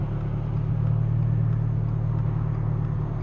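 A turbocharged Toyota GR86 engine runs at a steady low idle, a close, even rumble with a droning hum and no change in pitch throughout.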